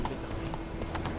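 Horse hooves clip-clop in quick, even beats across the ground in The Witcher 3 game world, close and distinct over a faint background drone.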